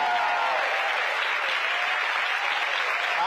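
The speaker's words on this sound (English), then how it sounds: "Let's give the panel a round of applause." An audience in a church at a Fairfax NAACP meeting applauds a panel with dense, steady clapping that stays loud and even throughout, with no talk over it.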